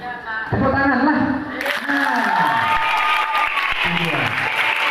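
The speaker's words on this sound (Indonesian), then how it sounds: "Ya, tepuk tangan lah." Audience applause at the opening ceremony of a student leadership training event at a madrasah in Tanjung Jabung Barat, a loud sustained clapping wash with voices talking over it throughout.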